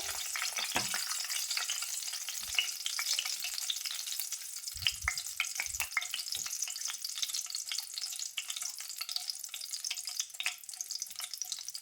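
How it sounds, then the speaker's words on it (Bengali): Whole spices and dried red chillies temper in hot oil for a jaggery mango pickle, giving a steady close sizzle throughout with scattered scraping and tapping from a spoon stirring the pan. "একটু ফোড়ন দিচ্ছি মিক্স করে নিচ্ছি সব কটা"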